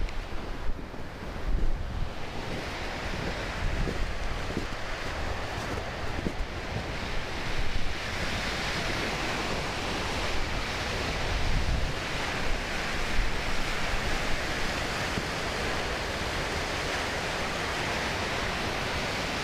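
Waves on the Lake Superior shore at Split Rock, Minnesota, wash in with a steady, loud roar of surf and wind gusting across the microphone, continuous and close, with no voices.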